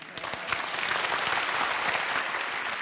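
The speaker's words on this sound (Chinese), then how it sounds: "此处应有掌声啊" Studio audience applause, a dense and steady wash of clapping that fills the whole stretch at an even, moderate level with no voices over it.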